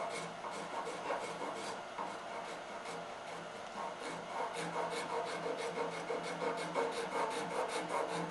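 A gouge pares wood by hand, worked left-handed to clean up tool marks in the webbing of a carving. It sounds as a steady close scraping rasp of short repeated strokes, with no talk.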